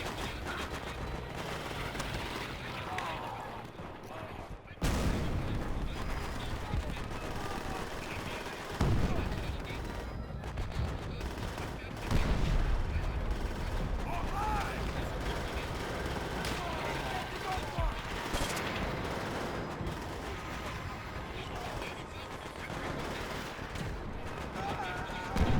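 Dense World War II battle gunfire from Call of Duty: World at War, with rapid rifle and machine-gun bursts and heavy artillery thuds. The sound is loud and continuous throughout, with sharp blasts and some voices mixed into the din.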